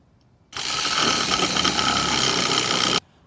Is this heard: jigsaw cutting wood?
yes